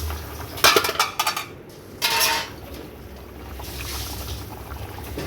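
A metal lid set onto a cooking pot during a Bengali home lunch of tilapia fish curry: a burst of clattering clinks, then a brief scraping rattle, close and fairly loud over quiet kitchen background.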